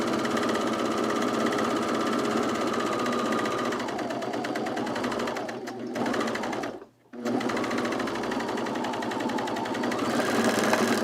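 A serger sewing machine stitches fabric in a fast, even whir, briefly slowing and stopping near the middle as the presser foot is lifted, then running steadily again.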